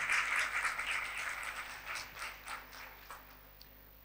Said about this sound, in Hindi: जोरदार तालियों में कलाम को वेलकम करें।